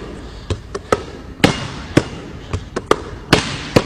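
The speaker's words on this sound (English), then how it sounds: "You can even hear the rhythm of the ball." Basketball dribbled between the legs in a drill, with sharp, evenly spaced bounces about every half second, some hits louder than others, close and alone with no talk.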